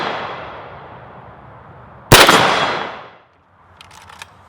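A single sharp, loud rifle shot from a Rifle Dynamics AK fitted with an MDC muzzle brake, cracking hard outdoors and trailing off in a rumbling echo before quiet ambience returns.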